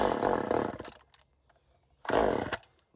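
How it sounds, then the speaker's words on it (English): A cheap chainsaw revs in two short loud bursts with a silent gap between, its engine roaring close by and then cutting out, with no talk. "if you want a chainsaw that's cheap and will start, it's this one."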